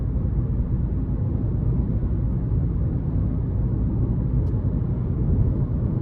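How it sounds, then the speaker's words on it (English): Steady low road roar from a 2024 Hyundai Kona Limited AWD 1.6 Turbo's 19-inch alloy wheels on rough pavement, a constant droning rumble heard from inside the cabin with no talking. "And the 19-inch alloy wheels, they're just a tad loud"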